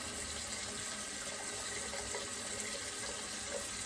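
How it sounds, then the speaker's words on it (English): A tap runs steadily into a sink during a shave, a faint, even water hiss with no break over a few seconds. "while I have the water running"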